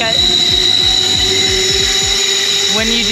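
A train in Zermatt rumbles with a steady rhythmic clatter of wheels over rail joints, a high whine and squeal running above it, fairly loud and close.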